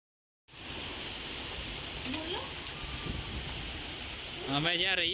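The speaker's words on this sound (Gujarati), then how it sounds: "બરફના નાના નાના ટુકડા પણ પડે છે." Small hailstones falling steadily like rain outdoors in a Gujarati village, a continuous patter of pellets on surfaces, with a voice briefly speaking near the end.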